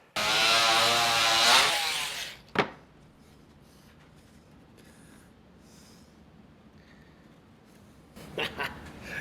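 A CNC machine carves small walnut inlays with a loud, harsh buzzing cut for about two seconds, followed by a sharp knock and quiet room tone, then a few short bursts of spindle noise near the end.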